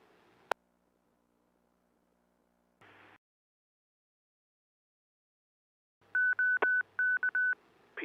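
Touch-tone DTMF beeps programming an amateur radio repeater into net mode, a click and a short burst followed by a quick series of clipped tone pairs near the end, clear and close over a quiet background.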